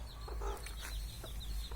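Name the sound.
Bihari hen, jungle breed chicken clucking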